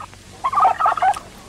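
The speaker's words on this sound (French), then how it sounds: "Ah, vos gueules, les dindes." Turkeys gobble in a 1972 film, a short burst of rapid, warbling calls at moderate volume over a quiet background.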